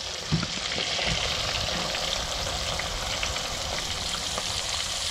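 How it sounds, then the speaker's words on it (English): Red snapper frying in a pan for a Guyanese-style curry, giving a steady, dense sizzle of hot oil that holds evenly throughout, close and continuous with no voices. "Yeah, you start frying the fish."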